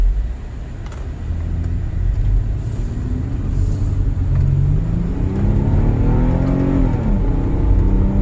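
A 2004 Toyota Highlander with misfiring, bucking and stalling problems out on a road test: a loud, steady engine drone from inside the cabin, rising in pitch as it accelerates, with constant road rumble and no talk.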